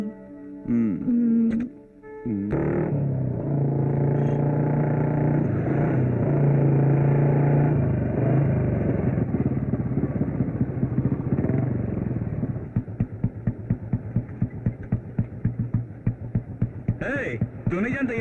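A motorcycle engine hums steadily at close range, its note rising and shifting and then settling into a rapid, throbbing idle, with some brief other noises near the start and end.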